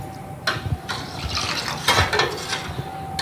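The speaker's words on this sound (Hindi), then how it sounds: "ये पानी इसमें ऐड कर दें, आहिस्ता आहिस्ता" Water is poured slowly into a bowl of tamarind for chutney, a close, steady splashing and trickling with a few clinks of the bowl and no talk.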